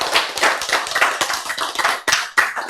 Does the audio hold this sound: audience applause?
yes